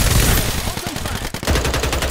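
Gunfire in the battle royale shooter Farlight 84: rapid, loud bursts of shots crackle through the whole stretch, with brief lulls between volleys and faint game voice lines mixed in.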